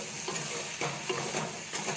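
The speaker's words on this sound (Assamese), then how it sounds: "ভাজিখিনি প্ৰায় আধা সিজা হৈছে" Potato and pointed gourd pieces sizzling in hot oil in a pan while being stirred, a steady close frying hiss with soft scraping strokes of the spatula.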